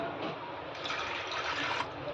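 Water poured into a pressure cooker holding washed, soaked dal, a short continuous splashing and filling sound at low level lasting about two seconds.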